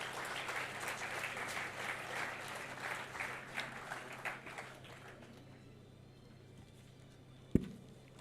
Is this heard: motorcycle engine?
no